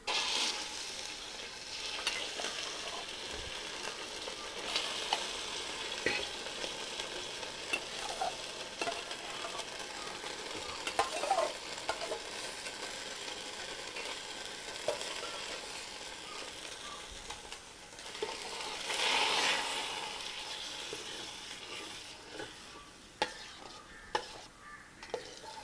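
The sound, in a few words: soaked sago frying and being stirred in ghee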